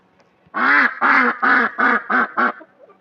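A duck quacks six times in a loud, rapid series close by, each quack harsh and nasal.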